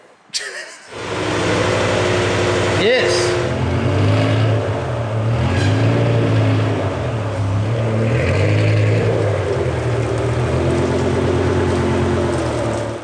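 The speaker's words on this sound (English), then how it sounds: "gonna do a burnout right here." A BMW E60 M5 with a newly fitted clutch doing a burnout, its engine holding a loud, steady roar for most of the clip after a short start. A voice briefly speaks over it.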